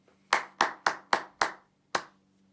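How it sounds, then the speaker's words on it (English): Six crisp hand claps nearby in a music-class rhythm, five evenly spaced in quick succession, then a pause before a final clap. "If we were clapping it, it would be"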